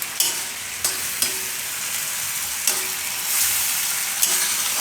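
Flour mixture being stirred in a pan makes a steady sizzling hiss, with a few sharp spoon scrapes and taps against the vessel spaced through it, close and without talk.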